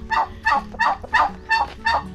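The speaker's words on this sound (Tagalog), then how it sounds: "ito yung manok na kakatayin natin bukas sa birthday ni Utol John Riot" Live chicken meant for slaughter at a birthday feast, calling in a steady series of six clucking bursts about a third of a second apart, close and fairly loud, with a low background hum.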